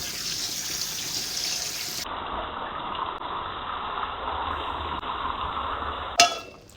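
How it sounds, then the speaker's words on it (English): Running tap water pours steadily over hominy white corn kernels being rinsed in a sink for several seconds, a constant close hiss that ends with a brief clunk. "Rinse the corn under running water."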